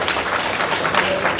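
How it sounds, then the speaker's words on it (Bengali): Loud, dense applause from an audience at a rank celebration program, a continuous wash of many hands clapping without pause, with a voice faintly underneath. "জোরে হাততালি"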